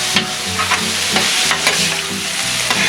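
Wild game sausage with about 20% pork, sizzling in olive oil and Italian spices on a Blackstone griddle, with steady loud frying and repeated rhythmic scrapes of a spatula stirring it.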